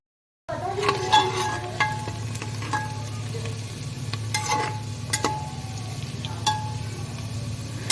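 Onions browning in a pan for arhar dal khichdi in a home kitchen, a steady soft sizzle with a low hum underneath and occasional scrape-like stirring clicks over eight seconds, no talking.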